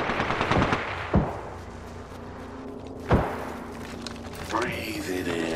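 Gunfire in Apex Legends: bursts of rapid automatic shots, with heavy impact thuds and a lingering rumble, in busy game audio.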